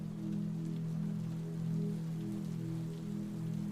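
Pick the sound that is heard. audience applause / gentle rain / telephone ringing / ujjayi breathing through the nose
gentle rain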